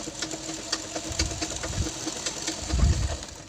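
Sewing machine stitching a blouse with a steady, continuous mechanical whir and rapid needle ticking, close and alone, surging slightly louder near the end.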